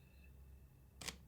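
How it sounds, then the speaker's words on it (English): A single crisp shutter click from a camera on a motorized slider, sharp and close, rising briefly above a quiet, faintly humming room. "it's going to move, and it's going to take a photo"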